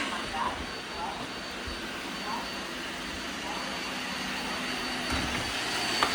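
A Bissell robot vacuum cleaner hums in a steady, close drone, with people talking faintly underneath.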